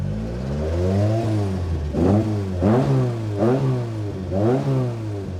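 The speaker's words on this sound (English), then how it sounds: "That revs quick, doesn't it?" A car engine revs repeatedly in sharp bursts, rising and falling in pitch several times, loud and close with no talking.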